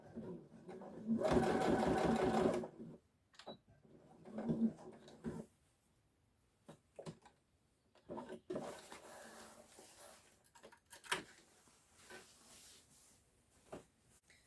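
A sewing machine stitching fabric for a tote bag, with a loud burst of rapid stitching early on and a shorter run after it, then quiet handling knocks and clicks as the fabric is adjusted.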